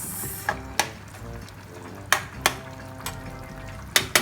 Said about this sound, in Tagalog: Haluin natin para ma-cover at ma-simmer yung sauce ng ginisa nating kamatis.